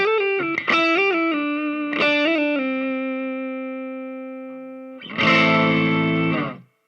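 Electric guitar played through distortion, single notes sliding along one string, stepping down in pitch over a few seconds and fading, then a loud, dense distorted burst that cuts off abruptly.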